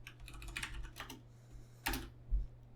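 Keys clack on a computer keyboard during HTML coding, a handful of quiet, close, irregular keystrokes with short gaps between them.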